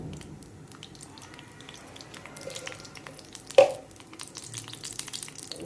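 Mustard seeds crackle and sizzle in a small amount of hot oil in a kadhai, tempering for a Maharashtrian katachi aamti; a steady close sizzle with one sharp pop partway through, no talking.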